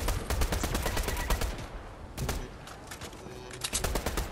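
Rapid gunfire in the video game Fortnite, bursts of automatic shots close and loud, with a brief pause midway before firing resumes.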